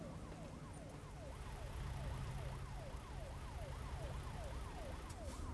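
Police car siren in American Truck Simulator, a rapid repeating wail sweeping up and down continuously over a low rumbling engine drone, heard from some distance.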